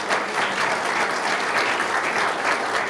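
Sustained applause from a sizable crowd, dense and even clapping filling the room without pause.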